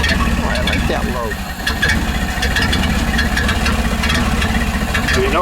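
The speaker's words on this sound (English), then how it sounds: "You notice it doesn't idle smoothly like a lot of Model A's because it has a cam in it." A cammed 1931 Ford Model A huckster delivery wagon with side exhaust pipes idles loudly and unevenly up close, its lumpy engine note running steadily under people talking.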